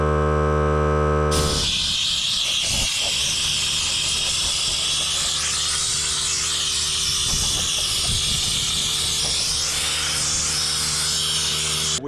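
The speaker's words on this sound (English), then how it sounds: "I'm actually going to be using my poor man's Harbor Freight pancake air compressor" A Harbor Freight pancake air compressor running for spray painting a rust-covered Ford F-150 frame and exhaust: after a second of quiet a loud, steady hiss starts and holds under a low hum until the end.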